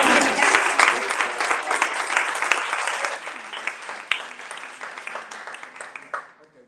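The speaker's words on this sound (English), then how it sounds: "round of applause." Audience applause at a death penalty justice gathering, a dense steady patter of many hands that holds for several seconds, then thins and fades out near the end.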